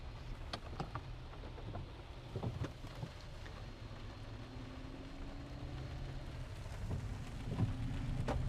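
Rain falls during a storm chase in Minnesota or Iowa, a faint steady patter with scattered sharper drop hits and a low rumbling background.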